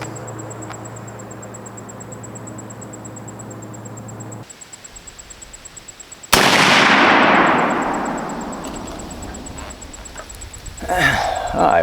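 An old gun fires a single loud, sharp shot at a 3D target outdoors. The report rings out with a long, fading tail after a quiet stretch, and faint rustling follows.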